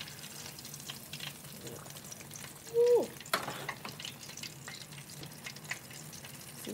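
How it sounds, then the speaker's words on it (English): Fish fries in hot oil with a steady, quiet sizzle and crackle throughout; a brief voiced exclamation is heard midway. "Ooh, it's still sizzling."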